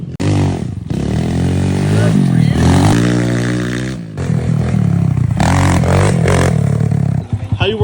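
Dirt bike engine revving loudly up close, rising and falling in pitch with clattering mechanical noise, while people talk over it.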